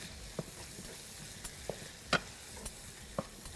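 Chicken cooking in a pan, moved around with a utensil: scattered clinks and scrapes over a quiet, low sizzle, close by with no talking.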